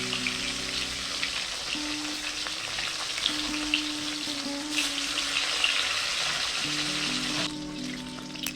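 Katla fish pieces frying in a small amount of oil, a continuous close sizzle with crackling pops, occasional clinks and a steady background hum, dropping slightly near the end.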